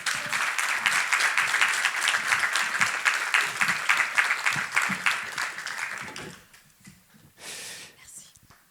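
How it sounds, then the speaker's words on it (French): An audience at a history lecture claps steadily and loudly for several seconds, then the applause fades out into a quiet room with a few scattered sounds. "Je vous demande de les applaudir bien fort."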